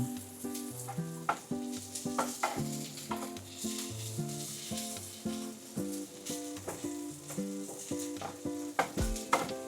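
Corned beef and potatoes sizzle and splatter steadily in a hot frying pan, a dense continuous crackle with sharp pops and spits scattered throughout, close and loud, with a musical tone running beneath.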